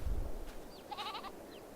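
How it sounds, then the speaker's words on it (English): Goats in a farm pasture give a faint bleat that rises and falls near the middle, with soft chirpy sounds around it over a low rumble at the start. "Some goats."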